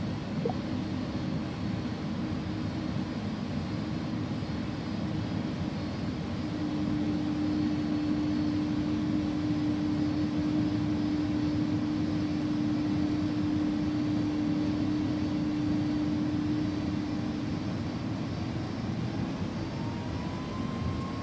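An Airbus A300-600R in X-Plane 11 on its takeoff roll, the jet engines giving a loud, steady broadband roar with a sustained tonal hum that holds for many seconds, a faint rising whine joining toward the end.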